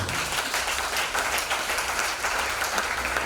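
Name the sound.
church congregation applauding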